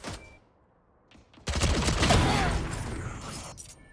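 Rapid gunfire in the tactical shooter Valorant: after a quiet start with a few faint clicks, a loud sustained burst of automatic shots erupts, then trails off near the end.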